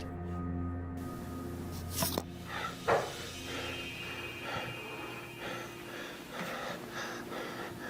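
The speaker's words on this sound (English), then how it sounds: "Do you hear how hard bro is breathing?" Heavy, labored breaths rasp in and out repeatedly over a low droning background, with a couple of sharp knocks early on.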